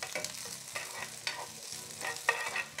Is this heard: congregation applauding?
no